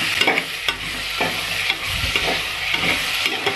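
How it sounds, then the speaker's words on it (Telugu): Ginger garlic paste sizzles loudly in a pressure cooker while a spoon stirs and scrapes it in uneven strokes, close and constant. "తర్వాత అల్లం వెల్లుల్లి పేస్ట్ అనేది యాడ్ చేసుకుందాం."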